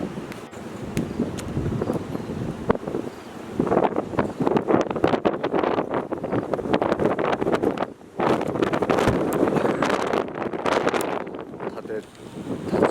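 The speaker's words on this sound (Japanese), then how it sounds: "立ち入っているのが大変なぐらい吹いております。" Strong typhoon wind buffets the microphone at a seaside harbor by a red lighthouse in Tokushima, a loud, continuous roaring rush with brief lulls, while someone speaks over it.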